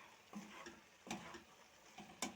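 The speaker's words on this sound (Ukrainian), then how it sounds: "помідорчики, перемішую" Tomatoes stewing in a pan are stirred with a utensil in a few distinct scraping strokes, spaced about a second apart, over a soft background sizzle.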